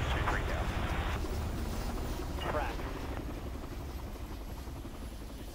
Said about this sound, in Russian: Смотри, вот вертолет.